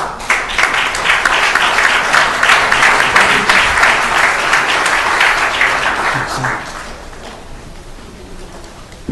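At a city council meeting, the audience claps for honored young people and their parents: loud, dense applause that holds steady, then thins and fades out toward the end.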